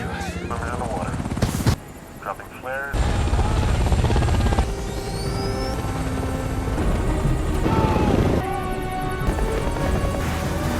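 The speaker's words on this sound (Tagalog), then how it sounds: "lumiko papunta sa kanila ang rescue helicopter" A rescue helicopter closes in over the open sea, its rotor roar loud and continuous amid dramatic music and effects.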